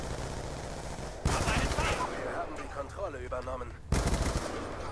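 Gunfire in the video game Call of Duty: Black Ops 2 comes as two loud bursts of rapid automatic shots, one early and one near the end, with a voice talking in between.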